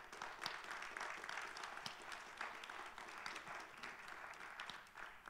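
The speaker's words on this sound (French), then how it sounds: "On peut les applaudir très fort aussi" An audience at a round-table conference session applauds the three panel guests being introduced, giving steady, continuous clapping from a crowd that sounds somewhat distant and fairly faint.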